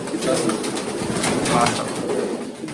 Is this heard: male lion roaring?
no